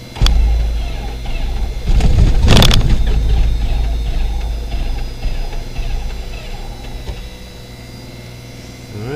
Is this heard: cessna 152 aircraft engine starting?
yes